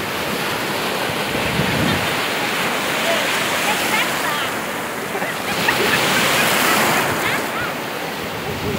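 Steady surf rolls and washes at Praia da Princesa beach in Algodoal, a loud continuous roar of breaking waves with some wind buffeting the microphone.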